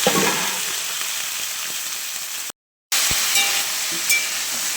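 Mixed vegetables sizzle steadily in hot oil with bay leaf, dried chilli and panch phoron, giving a close, continuous hiss broken by a brief gap of silence and a few soft stirring clicks, with no talking.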